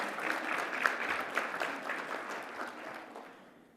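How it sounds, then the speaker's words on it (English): Audience applause at a healthcare conference in the Cayman Islands, a full burst of clapping that peaks early and gradually fades toward the end. "I think we have to give ourselves a round of applause"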